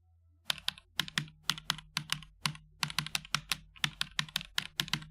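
Typing on a low-profile keyboard with nearly flat keys, a close, quiet run of crisp clicks in irregular bursts with brief pauses, nothing else audible.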